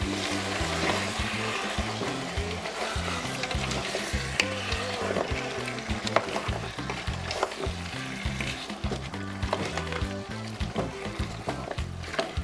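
Food sizzles steadily in a hot pan while a utensil scrapes and stirs through it in a quick, regular rhythm, close and continuous with no talking.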